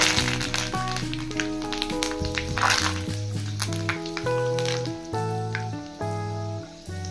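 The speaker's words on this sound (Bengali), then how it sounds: "কারি পাতা ভেজে নেব।" Curry leaves sizzle and crackle in hot oil for crunchy jhuri aloo bhaja. A moderate frying hiss runs under prominent background music.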